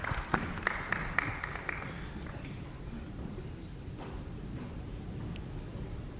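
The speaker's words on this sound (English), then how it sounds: "I ask that you give them another round of applause" Scattered applause from an audience honoring candidates at a formal gathering, a few sharp claps early, then a softer, distant patter of clapping that fades into room noise.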